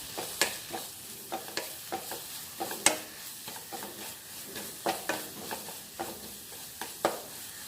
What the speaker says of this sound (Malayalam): ഇത് നന്നായി മിക്സ് ചെയ്യുക.